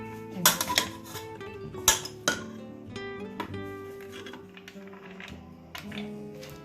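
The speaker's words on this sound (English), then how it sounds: "We need to put the chana dal in." Chana dal goes into a metal cooking pot for shami kebabs, with a few clinks and clatters of spoon and pot, close and moderately loud, scattered over several seconds.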